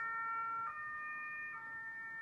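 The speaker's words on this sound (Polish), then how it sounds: "Karetka przejechała." An ambulance siren in an interactive story game sounds as a steady, loud multi-tone wail that shifts pitch partway through, passing close with no voices.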